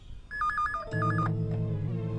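A telephone bell rings in short repeated trilling bursts, then gives way to a steady electronic tone, loud and close in an otherwise quiet room.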